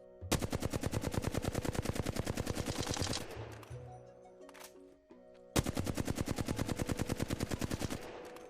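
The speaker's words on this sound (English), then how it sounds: "The gun clearly kicks up in the commonly known flatline recoil pattern" A Flatline assault rifle in Apex Legends fires two long, rapid full-auto bursts with close, even shots. Between the bursts come reload clicks and mechanical handling sounds.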